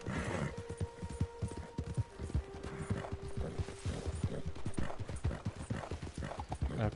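A horse gallops in Red Dead Redemption 2, its rapid clip-clop hoofbeats drumming steadily and close for the whole stretch over a dense game soundscape, with a brief whinny-like tone early on.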